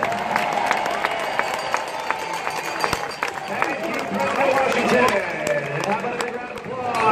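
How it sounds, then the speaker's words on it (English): Stadium crowd at the All-Star Game applauding and cheering, a steady roar of clapping with sharp claps near the microphone, while an announcer's voice carries over the noise. "How about a big round of applause for all of tonight's ceremonial first pitches?"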